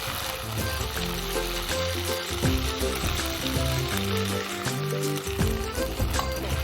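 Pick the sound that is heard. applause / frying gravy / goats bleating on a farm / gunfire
frying gravy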